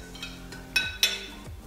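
Metal spoon scooping cotton balls from a bowl, with two soft clinks of the spoon against the bowl in a quiet room, then a low thump as the scoop settles.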